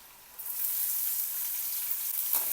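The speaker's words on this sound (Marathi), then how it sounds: "कांद्याला तेलामध्ये छान भाजून घ्यायचं" Sliced onion, green chili, garlic and cumin sauté in hot oil in a kadhai. A steady, bright hiss of frying starts suddenly and holds evenly, close by.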